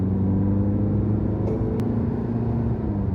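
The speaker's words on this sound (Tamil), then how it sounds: "இப்போ பாருங்க, நான் 3rd கியரில் ப்ரெஸ் பண்ணுறேன்." A 2024 Tata Safari accelerates hard in third gear, its engine a steady, loud, close rumble and whir that holds level throughout with no voices.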